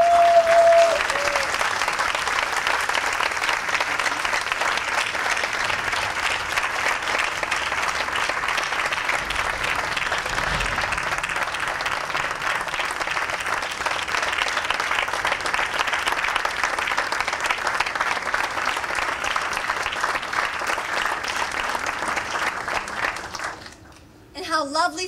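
A graduating class at a July commencement stands and applauds and cheers families in a sustained, loud wave of clapping that holds steady for over twenty seconds before tapering near the end.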